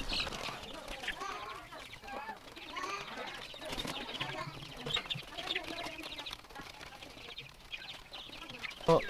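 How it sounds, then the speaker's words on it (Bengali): Chickens cluck and chatter while pecking at homemade feed, a faint, busy flock murmur with scattered soft calls and no talking. "আমার এই খাবারগুলো মুরগিকে দিলে মুরগি কি মজা করে খায় দেখেন"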